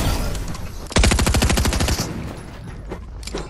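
Video game gunfire: a rapid automatic burst of about a second, dense evenly spaced shots, loud and close, followed by fainter scattered pops.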